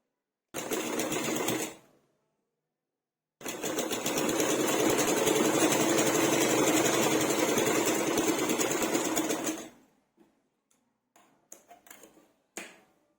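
A sewing machine stitches a blouse yoke strip in two close, loud bursts, a short run and then a longer steady one, followed by quiet handling clicks.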